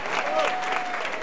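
Crowd of runners applauding a speaker at an Aix-en-Provence running event, steady brief clapping over 1.2 seconds with a faint tonal whistle running through it.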